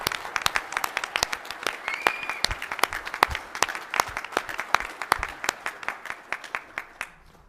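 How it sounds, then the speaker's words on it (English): An audience at the Minnesota AFL-CIO 2018 campaign conference gubernatorial forum applauds its moderator: dense, sustained clapping with sharp individual claps, fairly close, tapering off at the very end. "let's give a big round of applause to our moderator"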